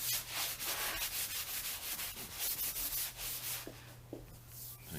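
Hand sanding a wooden door during refinishing, a steady close-up rasping rub with repeated strokes running throughout, a constant low hum underneath.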